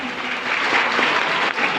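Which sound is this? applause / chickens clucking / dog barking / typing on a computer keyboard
applause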